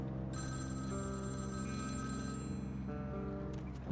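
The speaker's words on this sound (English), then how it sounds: "I can hear a phone call." A street pay phone rings in the game Vampire: The Masquerade – Bloodlines, a steady electronic bell tone with a short break before it resumes, fairly quiet and heard alone with no talk.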